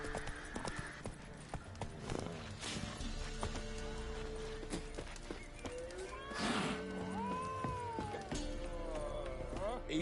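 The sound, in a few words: horse Roach galloping in a video game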